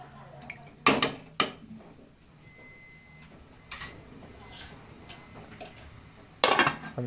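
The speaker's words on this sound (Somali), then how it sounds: "Xoogaa yar waan walaaqayaa si mataqaanaa digsi ugu dhegin" Food stirred in a cooking pot, with a few sharp metallic clanks and scrapes of a utensil against the pot spaced out over quiet background.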